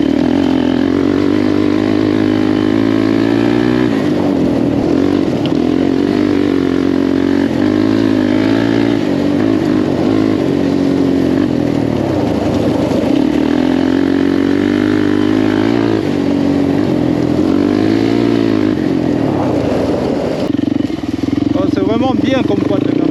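A Suzuki LTZ 400 quad bike ridden hard, its engine loud and close with repeated revving surges and shifting pitch throughout, a voice talking over it.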